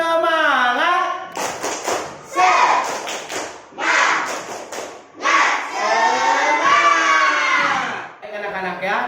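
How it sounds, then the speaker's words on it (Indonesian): Schoolchildren in a classroom shout along with a rhythmic group spirit clap, quick bursts of clapping alternating with lively voices, loud and close. "kita tepuk semangat dulu ya"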